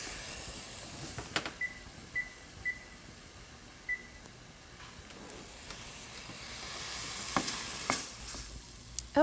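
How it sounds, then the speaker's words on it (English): Mushrooms cook down in a pan for bacon mushroom mac and cheese, giving a faint, low sizzle with scattered stirring clinks and scrapes over quiet background. "the mushrooms have cooked down, and I'm going to leave them on the heat"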